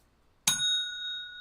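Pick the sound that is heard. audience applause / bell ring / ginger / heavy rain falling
bell ring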